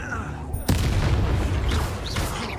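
A spell blast in Hogwarts Legacy erupts suddenly into a loud, booming whoosh that sustains with rumbling texture, followed by faint whistling swoops of magic effects.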